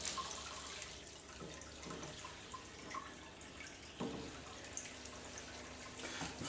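Water circulating in a small growing tank, driven by a MaxiJet 1000 pump, giving a steady soft trickle and splashing with a few louder drips, fairly quiet and continuous with no talk.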